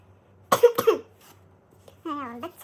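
A girl gives two quick, close coughs, followed after a short pause by a brief stretch of voice.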